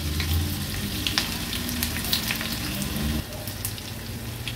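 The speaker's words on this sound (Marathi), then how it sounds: "1 टेबलस्पून एवढं आपण आलं लसूण क्रश तेलावर घालणार आहोत।" Ginger-garlic crush frying in hot oil in a kadhai for an Agri-Koli style squid thali, a steady close sizzle with scattered crackles that eases slightly toward the end; no one speaks.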